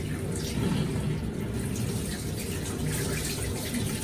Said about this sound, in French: Une fois qu'on est bien rincé, on rince encore sous les ongles.